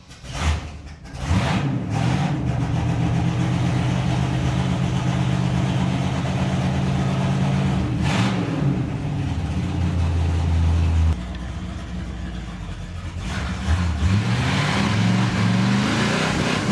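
A Cutlass crew cab car engine with highway gears and no rear brakes runs loud and close, a continuous low rumble that holds steady between several brief rev surges, with a drop in pitch partway through.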